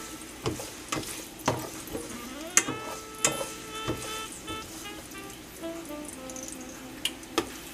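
Fresh tomatoes stirred and lightly roasted in a pan, with a soft sizzle under regular scraping strokes of a utensil against the pan, about one every half second, close and fairly quiet.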